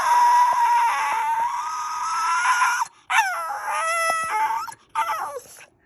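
A dog howls and whines close by in a house, long drawn-out wavering cries broken by brief pauses, with a few short higher yelps between phrases.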